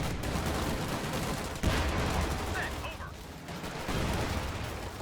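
Company of Heroes 2 battle fire between Sherman and Panzer IV tanks and infantry: dense, continuous bursts of gunfire and heavier cannon thumps, loud and crowded throughout with no pauses.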